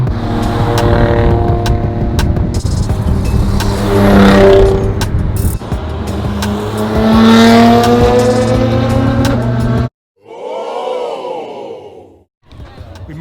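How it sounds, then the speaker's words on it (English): A loud turbocharged wide-body C8 Corvette engine revs and roars up and down repeatedly with whooshing turbo sounds, close by, with a brief drop to near silence near the end. "that car sounds so crazy. I love the turbos"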